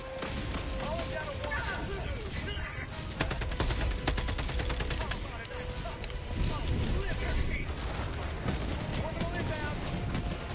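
Orbital strike and gunfire in the video game Helldivers 2: dense bursts of automatic fire and booming blasts over rumbling battle noise, loud and continuous, with a voice talking through it.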